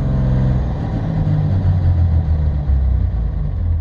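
A Cummins common rail diesel engine revs and then lets off the throttle, a loud, close, steady low rumble that rises and falls gently without any talk.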